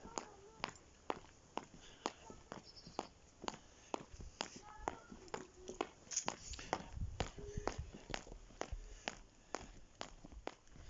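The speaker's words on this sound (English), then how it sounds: "I've got very noisy shoes on today" Hard-soled shoes with heel segs click in an even walking rhythm on a firm surface, close and fairly faint, with soft outdoor background noise.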